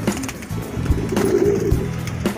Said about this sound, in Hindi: कबूतर इस तरीके से नहा रहे हैं